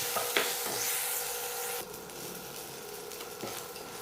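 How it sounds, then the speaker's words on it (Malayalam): Chicken sausages frying in a pan with a pinch of salt, a steady close sizzle with scraping stirring strokes, brighter at first and then settling into a softer hiss. "ഇതൊന്ന് ഫ്രൈ ചെയ്തെടുക്കാം."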